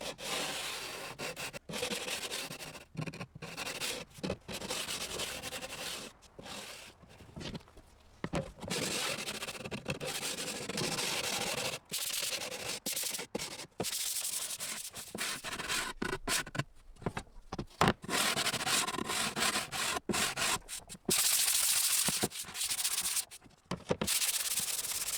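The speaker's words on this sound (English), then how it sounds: "I'm now using some coarse sandpaper to smooth the sharp edges and corners of the board, and to smooth the surface also" Coarse 120-grit sandpaper rubs back and forth over the edges, corners and face of a wooden board, giving steady, close, fairly loud rasping strokes broken by short pauses.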